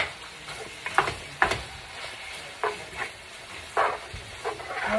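Ground beef frying and being stirred in a pan while cooking a casserole: a continuous soft sizzle broken by repeated scraping and clattering stirring strokes, close and fairly loud.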